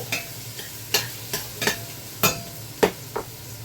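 Onion sizzles in a frying pan while a utensil stirs and scrapes it in irregular, fairly loud strokes, with a steady hiss of frying underneath.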